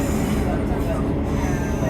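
A train running along the Dawlish seawall gives a loud, constant rumble and roar of wheels and carriage noise, heard from on board without pause.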